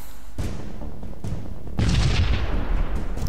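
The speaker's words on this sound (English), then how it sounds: "Another missile barrage, I think." Missile barrage launching in the space game Sunrider: several booming launches in quick succession, each a sharp burst decaying into a roar, the last swelling into a sustained loud rush.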